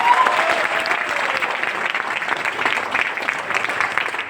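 Loud applause from a crowd at an event for Dr Surendra Vatsare, a steady dense wash of clapping with no gaps throughout.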